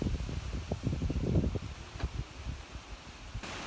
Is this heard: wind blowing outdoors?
yes